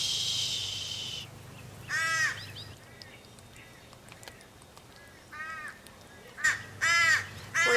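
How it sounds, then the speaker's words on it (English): Crows cawing in a garden, several loud harsh caws in short bursts, some close and some farther off, with a brief hissing noise at the start and quiet background between calls. "We're gonna take a short intermission for these crows."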